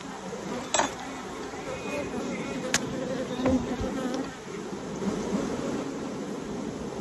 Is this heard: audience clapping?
no